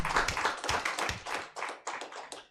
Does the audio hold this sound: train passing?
no